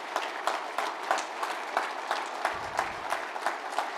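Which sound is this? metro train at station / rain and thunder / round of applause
round of applause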